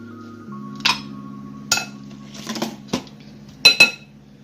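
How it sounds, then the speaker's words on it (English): Ice cubes tumble into a blender jar for a watermelon slushie, giving several sharp clinking clatters spaced over a few seconds above a steady low hum. "Now I'm gonna add ice"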